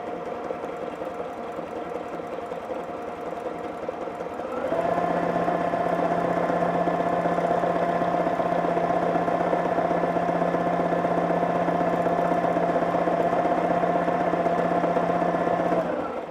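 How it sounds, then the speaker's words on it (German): A sewing machine stitches a dense zigzag at high speed for quilting. A quieter whir first, then a louder, steady mechanical hum and rapid needle chatter that holds evenly for about twelve seconds. "Wir nähen zickzack und wir möchten ein dichtes Stichbild haben. Das heißt, wir lassen unsere Maschine sehr schnell laufen"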